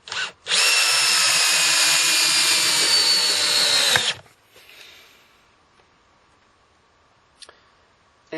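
A Bosch DDS182 brushless compact drill in first gear drives a screw with a loud steady whir for about four seconds, then stops abruptly, followed by faint clicks and near silence.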